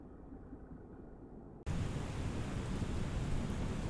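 Heavy rain and rumbling thunder from Microsoft Flight Simulator 2020 at Tokyo Narita airport: a quieter stretch gives way suddenly to a loud, steady downpour roar that lasts to the end, with no talking.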